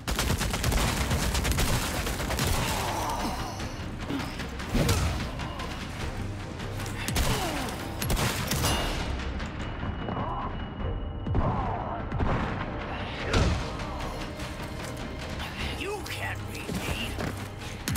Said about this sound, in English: Hit him with a good couple of shotgun shots.